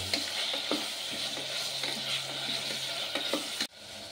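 Tomatoes frying on a low flame in a pan for homemade veg biryani, a close steady sizzle broken by rhythmic scrapes of a stirring spoon, ending in a sudden drop to quiet.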